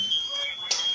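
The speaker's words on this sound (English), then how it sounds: "Multiple alarms going off." Smoke alarms sounding inside a burning house, a piercing steady electronic tone with a brief louder chirp near the end, over a faint background murmur.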